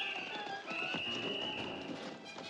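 Rhythmic clip-clop of horse hooves from the 1968 film Planet of the Apes under a steady mix of background sound and tonal noise, moderately loud throughout.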